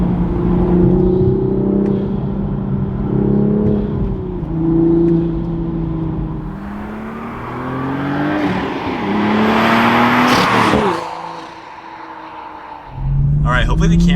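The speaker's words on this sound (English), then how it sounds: "first driving the car, you can definitely hear the turbo a lot more" A manual Toyota Supra fitted with an MST intake, driven while the engine drones and rises through the gears, turbo whistle and whoosh building up, then a brief lift-off before it pulls again, loud and close.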